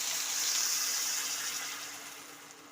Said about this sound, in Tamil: இந்த புளி தண்ணியை சேர்த்துக்கலாம்.